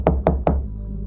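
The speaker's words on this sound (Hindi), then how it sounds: "अर्जुन ने जल्दी जाकर दरवाजा खटखटाया" Three evenly spaced knocks on an old wooden door, close and sharp, each with a short hollow thud that fades before a quiet tail with no voices.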